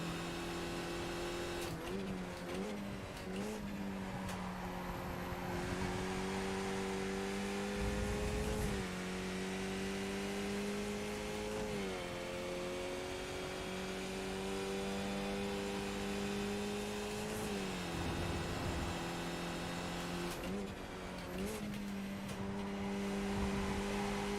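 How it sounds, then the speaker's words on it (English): Simulated race car engines in iRacing drone steadily close by, pitch rising and dropping with several gear shifts and revs, with a brief lull partway through and no speech. "So we might have Barry coming up to overtake us at some point"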